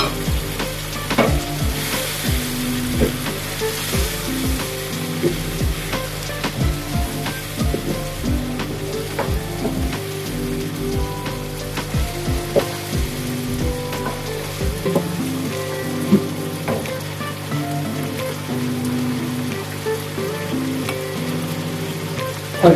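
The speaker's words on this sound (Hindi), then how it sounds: "प्याज और लहसुन दोनों जो है वो हो गए हैं सोते" Onion and garlic sautéing in hot oil in a pan for wing korma, a steady close sizzle and crackle with scattered pops and stirring scrapes throughout.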